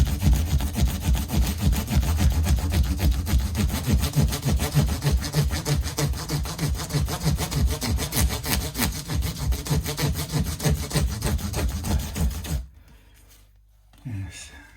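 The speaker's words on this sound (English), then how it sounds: "I've finished the polishing business, sanding and polishing" Guitar frets on a Telecaster-style refret are sanded and polished by hand, a loud, rapid back-and-forth rubbing rasp that continues for about twelve seconds before stopping abruptly, followed by a brief soft knock.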